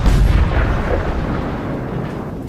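A Russian armored vehicle's onboard ammunition cooks off after a fire breaks out inside, producing a massive, loud explosion that opens with a heavy low boom and then fades into a sustained roaring rumble.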